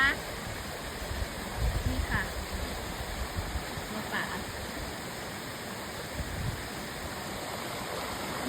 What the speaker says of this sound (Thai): บรรยากาศสุดยอด น้ำตกคลองน้ำไหลนะคะ